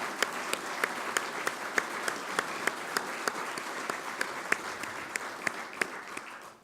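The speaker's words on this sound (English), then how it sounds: "please join me in a round of applause." An audience at an annual membership meeting applauds steadily, a broad wash of clapping with one nearby pair of hands beating out sharp, regular claps through to the end.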